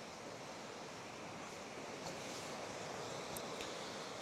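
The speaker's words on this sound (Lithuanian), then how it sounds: "Gal ir jūros ošimas turėtų padėti." Sea waves roll onto a wild Latvian beach with a continuous broadband roar and some wind, unbroken and steady, without voices.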